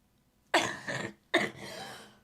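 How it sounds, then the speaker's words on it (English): Two hoarse coughs, close and fairly loud, each a sharp burst trailing into a raspy exhale, separated by a short pause. "she coughed just like this"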